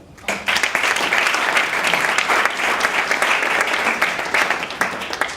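An audience at a regional sport conference applauds the introduction of a keynote speaker on coaching, with steady, dense clapping that holds at full strength for about five seconds.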